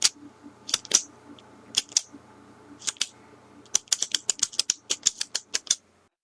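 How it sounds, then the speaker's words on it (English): A pen clicks repeatedly, sparse at first and then in a quick run of sharp, close clicks. "It is the sound of a pen clicking."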